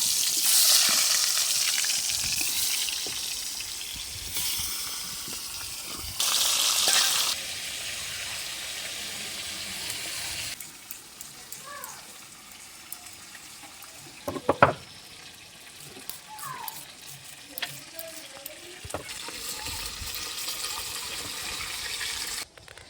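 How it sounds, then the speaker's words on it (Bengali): Pairatoli fish pieces frying one after another in hot oil, bursts of loud hissing sizzle that swell and drop as pieces go in, with quieter stretches, clinks and sharp crackles between them. "তেল গরম হয়ে গেছে, এবারে আমি একে একে মাছগুলো দিয়ে ভেজে নেব।"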